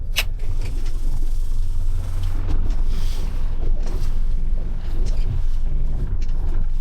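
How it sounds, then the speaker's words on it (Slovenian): Bora wind blows hard along the coast at sunset, a continuous loud roar buffeting the microphone with gusty low rumble throughout. "Piha, ja, burja je."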